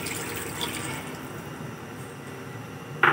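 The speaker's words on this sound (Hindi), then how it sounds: "और अब हम इसमें पानी शामिल करेंगे।" Water poured into a pot of fried mutton, a continuous soft splashing stream under light background noise, ending with a brief louder clatter.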